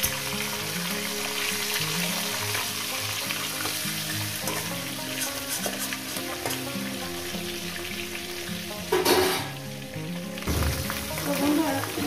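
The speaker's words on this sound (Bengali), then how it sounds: "মাছের মাথাগুলো আমার ভাজা হয়ে গেছে।" Fish heads sizzle steadily in a frying pan throughout, a continuous crackling fry with a faint background voice and a brief louder burst near the end.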